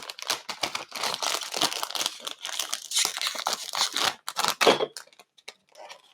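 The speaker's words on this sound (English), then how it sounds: "Let's see if we can get the plastic off." Plastic wrapping crinkles and tears as it comes off a boxed Peugeot 9x8 slot car by Scaleauto, a close, busy run of crackling bursts and rustles with short pauses, with no talk.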